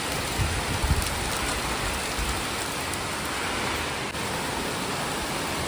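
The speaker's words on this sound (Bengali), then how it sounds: "দেখতেই পাচ্ছ প্রচণ্ড জোরে বৃষ্টি হচ্ছে" Heavy rain pours steadily and loudly throughout, a dense unbroken hiss with no voices.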